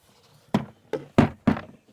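Door lock cable clip is pressed into a 2014 Nissan Titan door, giving four sharp plastic clicks and knocks, close and moderately loud, spaced irregularly over about a second.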